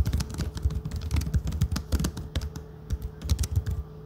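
Fingers type steadily on a uPerfect Lapdock keyboard, producing rapid, soft, close-up key clatter with brief pauses between bursts.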